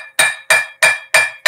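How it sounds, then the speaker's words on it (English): A blacksmith's hammer strikes a round metal bar on an anvil, shaping it square. Five loud, ringing blows fall at a steady rhythm, each with a brief decaying ring. "using the hammer and the anvil to shape it into a square shape"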